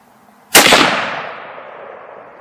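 A single loud rifle shot from a Weatherby Vanguard firing Super X ammunition cracks sharply and then tails off in a long fading outdoor echo.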